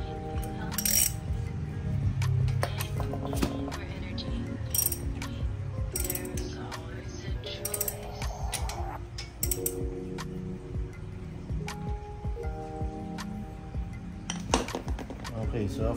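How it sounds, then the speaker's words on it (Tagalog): Metal tool clatter and ratcheting clicks from tightening a screw on a car's brake assembly, with steady metallic tapping, scraping and clinks throughout over a continuous low hum, close and fairly loud. "higpitan natin yung tornilyo"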